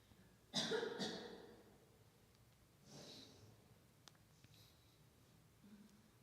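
Two sharp, loud coughs burst out close by, followed by a softer breathy cough and faint clicks in a quiet room.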